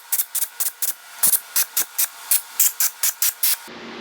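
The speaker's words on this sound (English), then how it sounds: "You want to blow all these bolt holes out." Compressed air blasts out the bolt holes of a junkyard LS engine block for a 1992 Firebird, a rapid series of about fifteen short, sharp hissing bursts close to the microphone.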